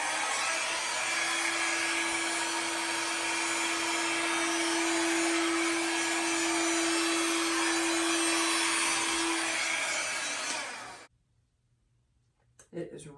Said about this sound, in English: how intentional I was with the movement of my blow dryer and pushing it this way